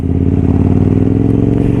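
Close, loud burble of a KTM 990 SMT Supermotard engine held at steady revs, its deep pulsing exhaust note with slight mechanical clatter, with no talking.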